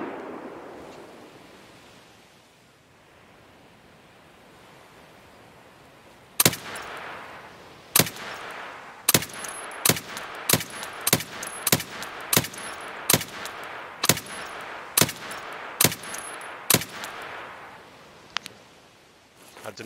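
Sharp, loud gunshots in Escape from Tarkov ring out in a steady series of single shots, about a dozen evenly spaced, after a quiet start.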